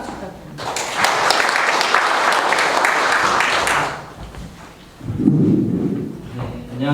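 Audience applause at a public debate on a municipal waste incinerator, a burst of clapping from a crowd lasting about three seconds that stops abruptly. A voice follows.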